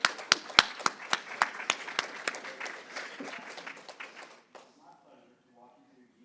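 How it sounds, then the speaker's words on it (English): Audience applause at a government industry conference, a burst of loud claps that tapers off after about four seconds into quiet with a faint voice starting. "I think they need a round of applause."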